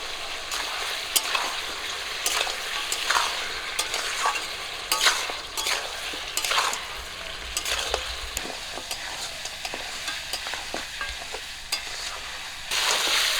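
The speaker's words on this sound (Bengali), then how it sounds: "মাংসগুলো ভাজা করে নিয়েছি ভাজা হয়ে গেছে" Pieces of mutton frying with turmeric and salt, a steady loud sizzle broken by repeated scraping stirs of a spoon against the pan, with no talking.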